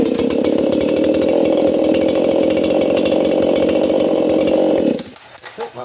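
A freshly built 4910 engine on a test bench runs hot after a restart, giving a loud, steady, buzzing two-stroke-style drone for about five seconds. Then it cuts off into quieter rattling.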